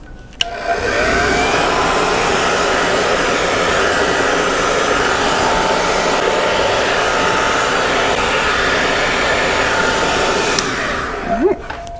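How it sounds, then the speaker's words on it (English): A hair dryer blows on curly medium-length type 3 hair, a loud steady roaring whoosh that switches on at the start and runs continuously for about eleven seconds before clicking off. "I'm gonna go ahead, blow dry just for a quick second"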